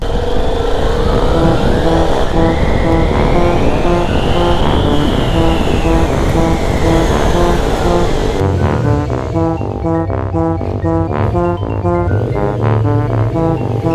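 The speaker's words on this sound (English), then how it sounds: "I'll come through quickly and then I'll slow down here and then do a burnout" A vehicle doing a burnout on a road in Japan, its engine loud and close: a long strained roar with a rising and falling pitch, then a harsher, choppy revving toward the end.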